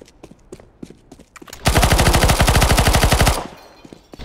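A PP-Bizon submachine gun in CS:GO fires one long, loud, rapid burst of evenly spaced shots lasting nearly two seconds, framed by sparse clicks and footsteps before and after.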